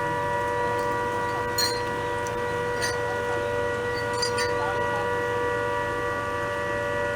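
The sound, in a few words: civil defense siren for war-time mock drill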